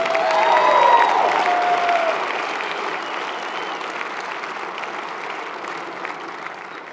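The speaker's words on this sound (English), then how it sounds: "applaud for her." A dinner audience applauds loudly for a scholarship winner, a burst of clapping that peaks within the first second and then slowly tapers off over several seconds.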